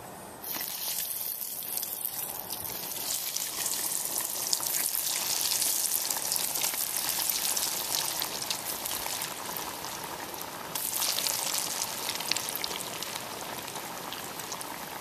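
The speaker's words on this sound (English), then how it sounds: "Here's my homemade mozzarella cheese sticks ready to be deep fried in olive oil" Homemade mozzarella cheese sticks deep frying in olive oil give off a steady, fairly faint bubbling crackle like light rain, unbroken for about fifteen seconds, with no voices.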